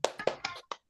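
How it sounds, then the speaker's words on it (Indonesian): A group of children clapping in unison for a spirited classroom cheer: four crisp, close claps in a quick rhythmic pattern, the last slightly separated, with no talk. "Oke, sekali lagi tepuk yang paling semangat"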